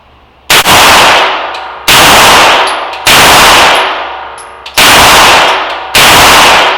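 Five loud gunshots at a shooting range during a drills session, spaced roughly a second apart, each sharp crack trailing off in a ringing decay, with no talking between them.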